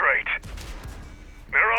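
A tank gun firing in the Steel Hunter video game gives a sharp boom with a short rumbling tail. Game voice chatter sits before and after it.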